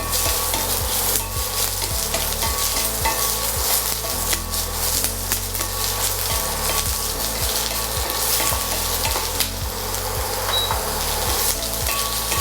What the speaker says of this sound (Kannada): ಆನಿಯನ್ನು ಕ್ಯಾಪ್ಸಿಕಮ್ಮು ಚೆನ್ನಾಗಿ ಡೀಪ್ ಫ್ರೈ ಆಗಬೇಕು